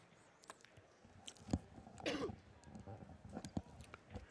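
A single sharp cough rings out in a quiet hall during a professional pool match, followed by softer throat noises, faint clicks and low murmurs of commentators talking nearby.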